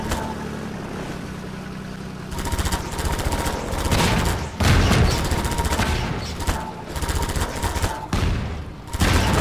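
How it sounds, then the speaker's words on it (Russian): Barrels blowing up in Half-Life 2 on maximum difficulty: several loud booming blasts go off one after another amid gunfire-like crackle and rumbling game noise, with no talking. "Бочки взорвались, и можно проехать."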